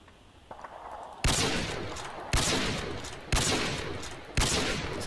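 Gunshots in the video game Call of Duty: Modern Warfare 2, four loud evenly spaced blasts about a second apart, each with a decaying tail, after a quieter lead-in.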